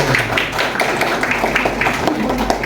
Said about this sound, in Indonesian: Masya Allah, tepuk tangan dulu